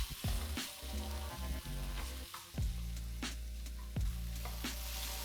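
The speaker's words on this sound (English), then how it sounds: "next I'm going to add ginger garlic paste, sliced onion, and saute till you get nice golden brown" Sliced onions and ginger-garlic paste sauté in a pan after curry leaves for a Kerala-style chilli lamb, a steady sizzle broken by several sharp spoon-against-pan knocks, close and alone.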